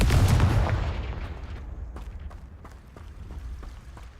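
A Confringo spell explosion in the game Hogwarts Legacy: one loud, close burst at the start that rolls off into a long fading rumble, with a few sharp crackles in the tail.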